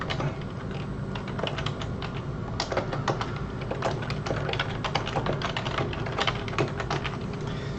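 Fast, irregular clicking of keys on a computer keyboard as a PowerShell command is typed on Windows 10, close and steady throughout with no speech.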